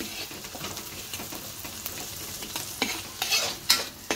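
Seasonings fry in a pan with a continuous soft sizzle under repeated scraping stirs, which grow louder and sharper toward the end, with no talking.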